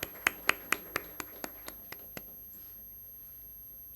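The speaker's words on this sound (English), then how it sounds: "A big round of applause, please." Scattered applause at a panel discussion: about nine separate hand claps in a quick, loose rhythm that thin out and fade within two seconds, leaving quiet room tone.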